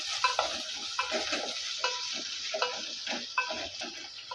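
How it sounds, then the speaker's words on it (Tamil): Chopped onion and green chili sautéing in hot oil for a fish curry, with a steady sizzle and repeated scraping stirs of a spatula in the pan. "ஒரு பச்சை மிளகா. இப்போ அதையும் நம்ம வதக்கி எடுத்துக்கலாம்."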